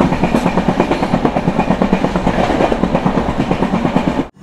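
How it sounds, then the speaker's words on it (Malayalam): Kochuveli–Bhavnagar Express sleeper coaches rumble steadily along the Konkan route rails, a loud continuous rattle with rhythmic clickety-clack beats throughout, cutting off abruptly at the end. "ട്രെയിൻ ഇപ്പൊ കുംട്ട റെയിൽവേ സ്റ്റേഷനിൽ എത്തിയിരിക്കുകയാണ്."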